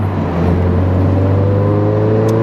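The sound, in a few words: 2022 Subaru BRZ aftermarket exhaust drone while driving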